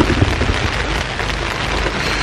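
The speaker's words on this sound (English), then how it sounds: "I know it's only like a tiny bit of rain" Rain pours onto a tent at a festival campsite in stormy weather, a dense, steady patter of drops close overhead that continues without a break, with no voices.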